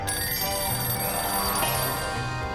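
A telephone rings continuously in the Sam & Max Save the World video game, a loud, steady electronic ring over a low rhythmic musical backing.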